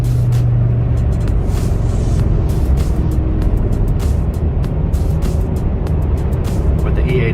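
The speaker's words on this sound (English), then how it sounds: "cruising along at 85 miles per hour in regular, not even sport mode" Car on E85 fuel cruising at highway speed in regular drive mode, a loud steady rumble of engine and road noise heard from inside, with intermittent clicks and ticks over the drone.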